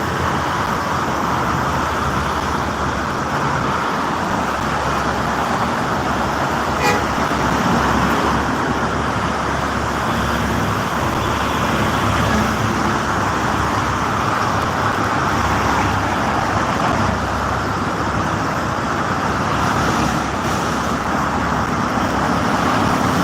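Dense traffic on the Jakarta–Cikampek toll road, with many trucks in the morning under overcast skies. It is a steady, unbroken roar of passing vehicles, with no voices.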